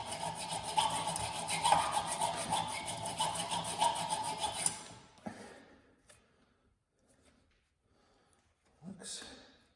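A saw grinds through a rusted rear axle beam bushing on a Volkswagen, a steady rasping cut for several seconds that stops, followed by near silence and a brief scrape at the end.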